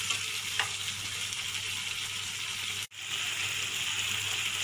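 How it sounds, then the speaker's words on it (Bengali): Shrimp and potatoes sizzle steadily in a poppy seed masala with butter and cheese, a dense close frying hiss that runs without a break while the pan is stirred, with one brief dip near the middle. "আমি এইভাবে নাড়বো 1 মিনিট,"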